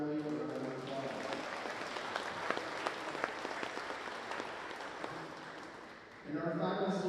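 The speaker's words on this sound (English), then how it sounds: "Let's give Emily a round of applause" A gym crowd at a high school volleyball game applauds a senior during senior night, a dense wash of clapping and cheering that rises sharply near the end as an announcer's voice cuts in over it.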